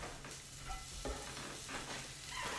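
Bacon fries in a pan for a pasta carbonara, producing a faint, continuous sizzle with soft crackling and light stirring noises, with no voices.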